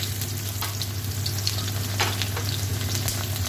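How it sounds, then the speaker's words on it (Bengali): Chopped onion and garlic frying in hot oil for a chicken curry, a constant loud sizzle with occasional crackles and the scrape of stirring. "এখন কুচনো পেঁয়াজটা দিয়ে দেব।"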